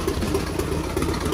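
A turbocharged Harley-Davidson engine idles steadily and smoothly, a loud, close, even low rumble running throughout with no voices.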